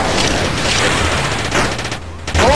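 Turret gunfire from the game Gang Garrison 2 comes as a dense, loud, continuous fusillade of rapid shots, briefly easing before another burst at the end.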